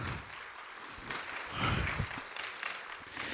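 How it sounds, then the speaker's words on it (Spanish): Soft, distant applause from a church congregation, a brief patter of clapping rising and falling for a few seconds. "dale ese aplauso de gratitud al Señor"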